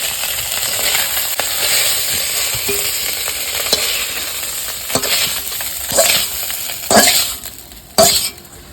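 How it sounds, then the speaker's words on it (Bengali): Fish sizzling in hot oil in a village kitchen, a loud steady crackle and spatter close by, with occasional sharp clinks and scrapes of a utensil against the pan growing more frequent toward the end. "বেশ ভালো করে সুন্দর করে ভাজছে, দেখো মাছগুলো একদম ফোলা ফোলা আছে"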